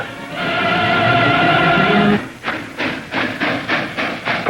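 A train at a train wreck show at the Minnesota State Fair, a loud steady hissing rumble for about two seconds, then rhythmic chuffing bursts repeating closely and regularly.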